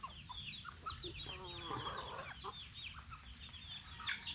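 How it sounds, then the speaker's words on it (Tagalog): Backyard chickens, young hens without a rooster, cluck and chatter softly at a close to moderate distance over steady outdoor background noise, with scattered short calls throughout. "Ito na lang yung mga manok ko guys, konti na lang."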